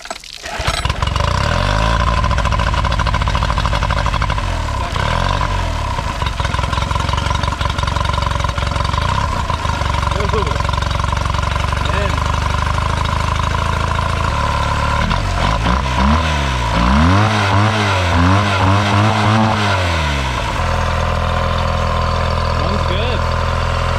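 Freshly serviced outboard boat motor with new plugs, prop and lower unit fluid starts on a pull and settles into a loud, steady running drone, with a brief revving wobble partway through.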